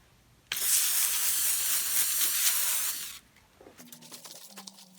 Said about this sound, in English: To prevent rust, I'm going to be using this WD-40.